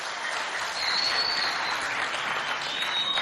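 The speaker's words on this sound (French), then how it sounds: "Applaudissements, s'il vous plaît." An audience applauds at a televised school programme in Moundou, Chad, a steady broadband patter of clapping that holds at an even level throughout without voices.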